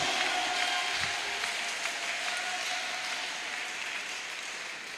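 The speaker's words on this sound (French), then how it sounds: "On acclame!" A crowd at a political rally in Tchibanga, Nyanga province, Gabon, claps and cheers steadily, a dense wash of applause holding for several seconds and slowly easing.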